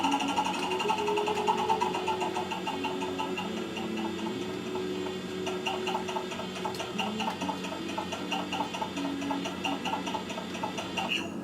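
A Wheel of Fate prize wheel spinning, with a steady run of light clicking ticks over a continuous droning tonal background.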